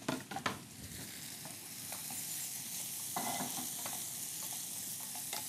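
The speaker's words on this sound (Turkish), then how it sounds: "Portakallarımızı ilave direkt içine koyuyorsun." Oranges drop into a hot cooking pot and are stirred, giving a steady close sizzle with scraping stir strokes and a few soft knocks at the start, no talking.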